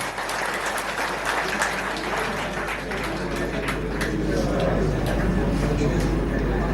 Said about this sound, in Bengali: আবারও আমরা করতালি দিয়ে ওনাকে অভিবাদন জানাই